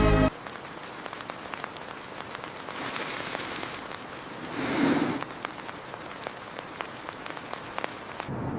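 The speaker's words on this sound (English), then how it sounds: "Cold rain arrives, and warmth becomes as important as camouflage." Cold rain falling steadily on open ground in willow ptarmigan country, a dense pattering hiss that swells briefly midway, alone with no voices.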